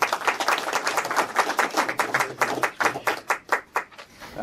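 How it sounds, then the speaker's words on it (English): A lecture audience applauds a talk on hearing loss in Australia, with dense, fairly close clapping that thins into a few scattered claps toward the end. "So I think that deserves a round of applause."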